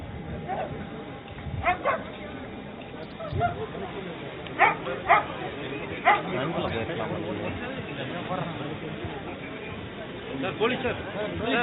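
Police dog squad dogs barking outdoors at an Independence Day ceremony in the Nilgiris, several sharp barks and yips scattered over a crowd, under steady chatter and talk nearby.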